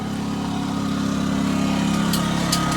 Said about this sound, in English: Got our generator going, propane generator.